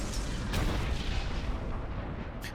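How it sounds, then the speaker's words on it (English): Heavy overcharged starship cannons fire in Star Wars: The Old Republic, a dense, loud barrage of booming blasts with sharp cracks near the start and end, rumbling continuously under no talk. "I fire the overcharged cannons for a nice damage"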